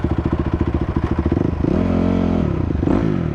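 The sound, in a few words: motorcycle engine starting up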